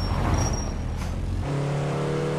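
First-generation Honda NSX engine in the racing game Driving School Classic, a loud rev that drops off abruptly midway and settles into a steadier, higher engine tone.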